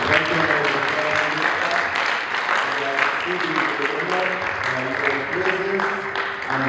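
Audience hand clapping at the opening of a national conference on health and human rights in Uganda, sustained applause with musical tones and voices mixed in underneath.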